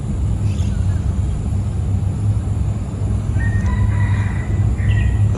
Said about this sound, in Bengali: দূরে জঙ্গলে মোরগ চিল্লাচ্ছে কক্কর কক করে